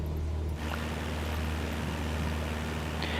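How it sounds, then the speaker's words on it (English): A steady, loud aircraft engine drone and rushing wind fill the air in Microsoft Flight Simulator 2020, heard from an external view at Oakland International, a continuous broadband roar with a low hum and no talk. "Let me know if the engine sounds are too loud."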